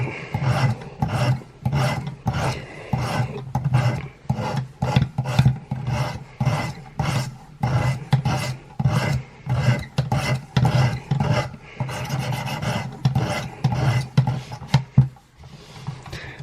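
A rough knife is sharpened on a 320 grit Work Sharp stone, with rhythmic rasping strokes in quick bursts, each a brief, gritty scrape.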